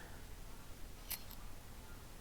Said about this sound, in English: Shearing a sheep